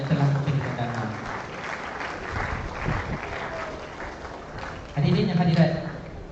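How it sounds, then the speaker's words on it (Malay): Applause from an audience at a state-level career fair in Pahang rolls on as a steady wash of clapping, with a voice speaking over it near the start and again toward the end. "Berikan tepukan kepada Finco lagi sekali kerana telah memberikan dana."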